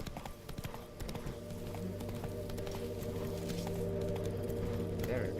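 Roach, a horse in the video game Witcher 3, gallops steadily with rhythmic clip-clopping hooves that run throughout over a constant game ambience, with a voice speaking briefly over it.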